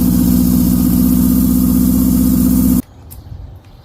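A Honda CB750 land-speed motorcycle engine runs loud and close at light throttle with a steady, throbbing rapid firing pulse, then cuts off abruptly near the end, leaving quiet background.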